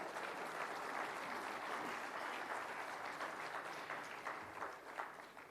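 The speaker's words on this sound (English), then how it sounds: "maybe you can give them an applause" Dense, even applause from a conference audience at a world basketball summit keynote, heard at a distance and fairly soft, sustained without a break.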